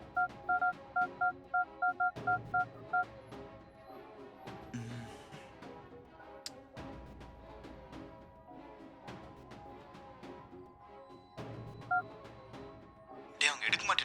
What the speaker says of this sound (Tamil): டேய், ஃபோன் ரிங் ஆகுது, ஆனால் அவங்க எடுக்கலடா.